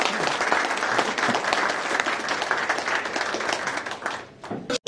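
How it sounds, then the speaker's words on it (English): A room full of guests at a Rotary Young Chef Competition heat in Bournemouth gives a dense, loud round of applause. The clapping runs steadily for nearly five seconds and then cuts off sharply. "I think you should all give yourselves a very good round of applause"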